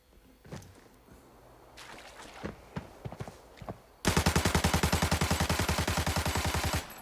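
FAL rifle gunfire in the shooter game Arena Breakout, with a few scattered thumps and footsteps at first, then a loud, rapid, evenly spaced string of close shots that runs for several seconds.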